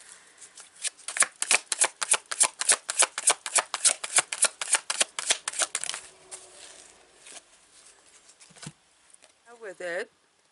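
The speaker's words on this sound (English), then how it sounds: "I'm going to pull a tarot card with it" Tarot cards riffle-shuffled in a rapid run of crisp, papery flutters for about six seconds, then softer sliding and shuffling, ending with a brief burst of laughter from a woman.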